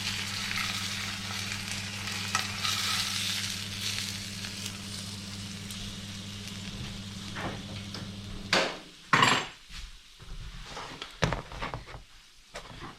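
Abalone strips dredged in plain flour and seasonings fry in a pan with a steady, hissing sizzle for most of the stretch, then a few louder clatters and stirring knocks near the end, with no voice.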